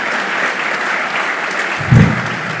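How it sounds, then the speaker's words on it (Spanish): Dense, steady applause from an audience at an event honoring a food bank, filling the whole stretch with a brief low thump near the end. "Les pido un aplauso al Banco de Alimentos"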